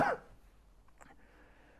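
A single short, fairly close cough bursts out at the very start, then gives way to quiet room tone with no talk.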